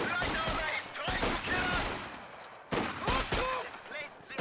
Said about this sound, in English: Double machine guns do have enough penetration to chip away at it.